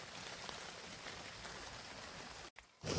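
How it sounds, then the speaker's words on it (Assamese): Steady rain pours down outdoors, a dense continuous hiss close by, broken by a brief near-silent gap before resuming louder. "এই গোটেই ভিজলোঁ আৰু বৰষুণ দিছে"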